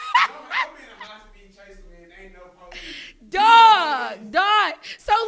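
A human voice imitates a dog, with barking and whining yips in short bursts, loud and close, mixed with speech-like sounds.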